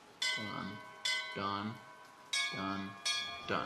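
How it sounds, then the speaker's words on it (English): Bright bell-like tones in the video game BioShock Infinite strike repeatedly, about four times, each ringing with sustained shimmering overtones, while a voice speaks between and over them. "I saw some bells here."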